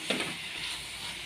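Onions sizzle in a hot pan after salt is added, a steady close hiss with a faint stirring scrape near the start and no talking.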